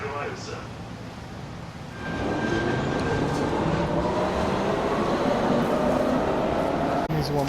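A train in Call of Duty Warzone rumbles past up close, a loud steady rolling roar with rattling wheels that swells after a couple of seconds and holds, with people talking over it.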